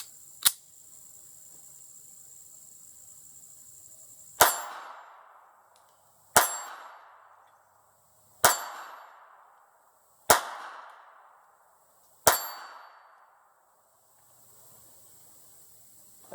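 Five sharp metallic clangs from a Bayard 1908 .32 ACP pocket pistol's rounds striking a steel target at seven yards, evenly spaced about two seconds apart, each ringing and decaying over a steady background hiss.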